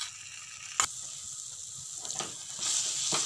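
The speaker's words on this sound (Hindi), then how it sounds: "इसे हम बहुत ही स्लो फ्लेम पे बहुत अच्छे से भूनेंगे" Bottle gourd halwa with dry fruits roasting in ghee over a low flame gives a soft, steady sizzling hiss, broken by a few sharp clinks of a utensil.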